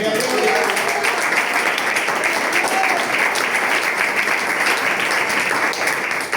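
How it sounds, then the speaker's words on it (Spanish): A church congregation applauds together in a dense, steady wave of clapping that stays loud and even for the whole stretch, with no voice rising above it. "Denle un aplauso al Señor."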